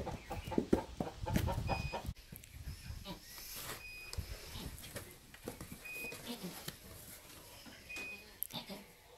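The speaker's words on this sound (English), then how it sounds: "Chicken." Chicken clucking on a goat farm, a series of short, abrupt clucks and calls heard fairly close amid barnyard rustling, with some people talking softly in the background.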